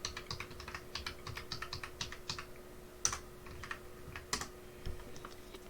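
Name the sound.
typing an IP address on a computer keyboard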